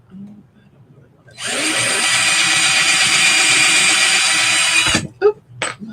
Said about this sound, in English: I'm going to go ahead and drill my other hole.